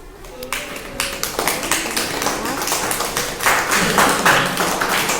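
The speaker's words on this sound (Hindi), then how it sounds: "तालियां एक बार बजा दो मेरे लिए" Students in a classroom clap together, a scattered burst of claps swelling into a loose round under a teacher's speaking voice.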